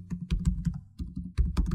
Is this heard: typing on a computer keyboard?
yes